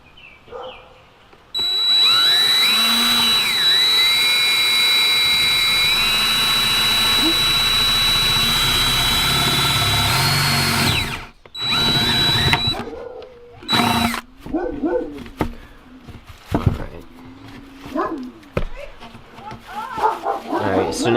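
A power drill bores a hole in a Volvo V70R during a boost cooler methanol injection install, whining loud and steady for several seconds up close, then stopping. Short bursts, clicks and a dog's barks follow.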